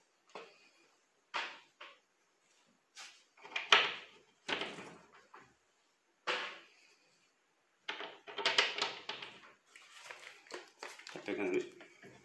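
A door panel on a shoe rack is pushed and knocked into place, giving scattered light clunks and rattling taps in short bursts separated by quiet gaps, with occasional speech.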